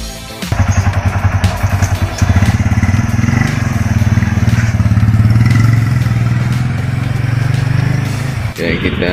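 Three-wheeled motorcycle carrying mineral water and RO water deliveries, its engine running loud and steady close by for most of the stretch before cutting off near the end.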